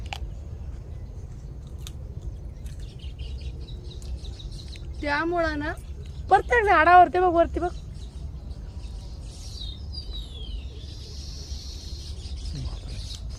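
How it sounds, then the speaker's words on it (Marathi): Two short bursts of warbling bird chirps rise over a steady outdoor hum in a farm orchard, with people talking nearby and faint twittering later on. "पक्ष्यांचा आवाज येतोय"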